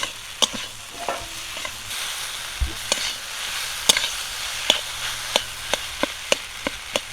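Potato and boiled taro fry together in a pan, with a soft, steady sizzle beneath regular sharp knocks and scrapes of a spoon or spatula stirring, close and quiet, with no one speaking.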